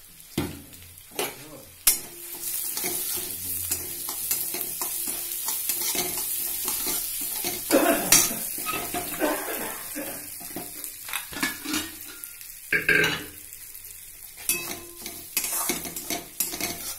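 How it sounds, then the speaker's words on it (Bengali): Moong dal frying in mustard oil in a kadai, with soft sizzling under repeated sharp scrapes and clinks of a ladle stirring against the metal pan; no talking. "আমি মুগের ডালটা ভেজে নেব।"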